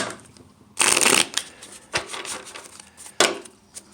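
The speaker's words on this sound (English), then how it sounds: "We'll shuffle it again on camera." Tarot cards being shuffled up close: a loud riffling burst, then softer shuffling and taps, another sharp riffle near the end.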